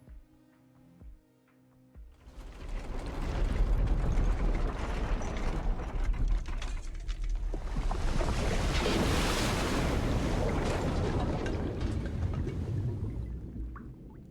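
Water floods in with a loud, sustained roar of surging, churning wash in a video game, beginning after a quiet moment and swelling into a continuous rushing surge before easing slightly at the end.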